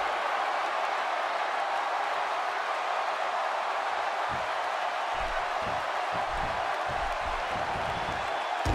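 A crowd cheers in WWE 2K16 during a SmackDown wrestling match. The noise is a dense, steady roar throughout, with scattered low thuds in the second half.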